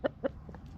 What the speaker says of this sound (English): Oh, there's some chickens.